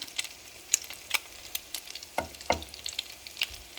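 Salmon croquettes frying in about three-quarters of a cup of canola oil, giving a soft, steady crackle with scattered sharper pops and sputters, heard close up with no talking.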